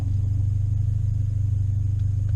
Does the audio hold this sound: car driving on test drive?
yes